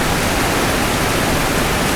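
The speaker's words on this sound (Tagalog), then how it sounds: "Ang lakas ng kaluskos ng buhos ng ulan sa bubong ng bahay." Heavy rain pours onto a house roof, a dense, loud, unbroken rush of hissing noise with no pauses or voices.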